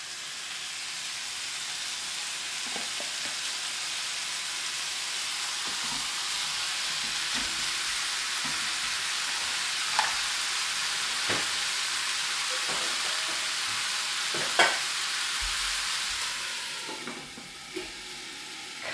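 Cauliflower frying in plenty of oil over a strong flame gives a steady, even sizzle and hiss that lasts throughout, with occasional soft clicks and a few louder pops near the end.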